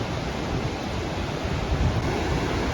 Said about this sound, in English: it's still wonderful to listen to the soothing sound and rhythm of the waves now